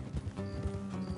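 Horse hooves in Red Dead Redemption 2 clop in a quick, steady rhythm on hard ground, close by, over a low background rumble.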